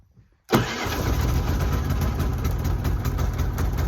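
Off-grid generator with choke and electric start catching and settling into a steady, loud running drone after a brief quiet moment, close by, with no talking.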